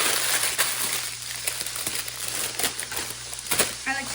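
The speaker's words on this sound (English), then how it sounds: "I like to crinkle up the paper." Baking paper being crinkled and crumpled up close, a continuous rustling crackle with a few sharper crunches.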